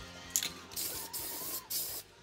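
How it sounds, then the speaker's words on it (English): An aerosol can of spray paint hisses in three separate bursts onto electrical outlets during a camper paint job, each spray lasting about a third of a second, close and fairly faint, with a rattly click before the first. "So we're gonna spray her with spray paint."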